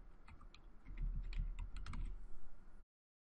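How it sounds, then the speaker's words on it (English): Computer keyboard being typed on to enter a web address in classroom monitoring software, a quick run of close, crisp key clicks of uneven rhythm that stops abruptly. "Now I'm going to type in the URL for Facebook and select Add."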